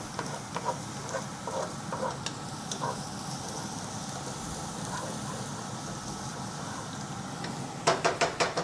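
Collard greens going into a pan with golden-browned chicken, a steady sizzle and frying hiss with a few stirring clatters early on and a burst of sharp crackling pops near the end.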